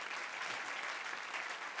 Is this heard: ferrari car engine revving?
no